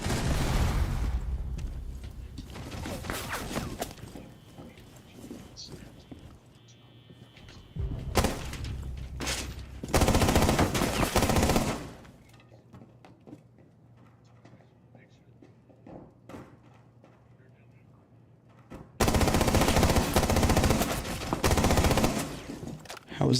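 Gunfire in the video game Rainbow Six Siege played on Xbox: loud bursts of rapid shots come in several clusters separated by quieter stretches, with a player talking in between.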